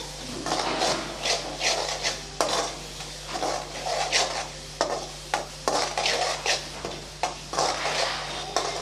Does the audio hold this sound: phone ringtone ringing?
no